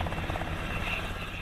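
A National Guard Black Hawk helicopter flies overhead with a steady, throbbing rotor roar and a continuous engine drone, loud and unbroken.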